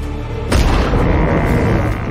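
A rifle shot fired during a frontier buffalo hunt, one sharp, loud report that cuts in abruptly and leaves a dense rumbling wash behind it.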